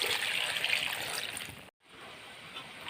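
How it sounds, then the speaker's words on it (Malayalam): Water pours steadily into a cooking pot holding a jackfruit curry, a close trickling rush that breaks off briefly near the end and then resumes more quietly, with no voices. "ഇനി ആവശ്യത്തിനുള്ള വെള്ളം ഒഴിച്ച് കൊടുക്കുകയാണ്."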